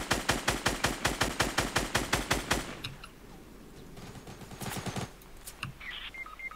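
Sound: gunfire in Fortnite video game

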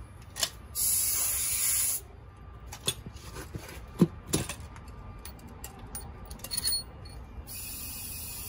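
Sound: old air compressor pumping air into tire

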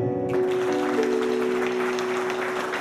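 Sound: audience applause

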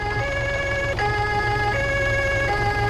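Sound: siren in the video game Arma 3

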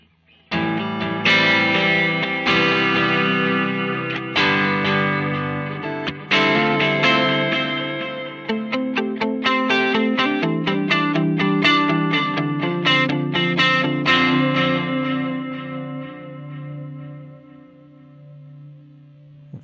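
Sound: Eventide TimeFactor tape echo setting on guitar

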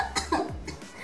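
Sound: cough

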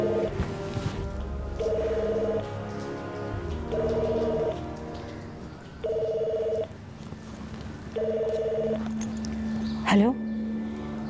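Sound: telephone ringing

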